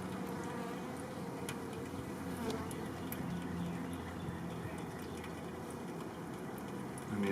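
Honeybees buzzing as a hive is opened for inspection after winter, a dense steady hum filling the whole stretch with no talk.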